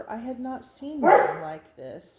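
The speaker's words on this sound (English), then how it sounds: "sorry about the dogs" Dogs bark in a few quick, sharp yips and woofs nearby, overlapping a person talking indoors.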